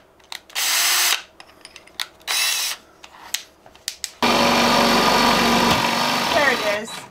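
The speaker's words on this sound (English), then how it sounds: "I'll do it nice and slow with a fast drill speed." A power drill at fast speed whirs in several short bursts, then runs steadily and loudly for several seconds as it bores through wood.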